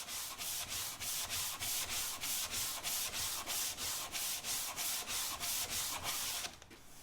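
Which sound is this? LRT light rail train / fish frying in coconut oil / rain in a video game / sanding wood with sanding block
sanding wood with sanding block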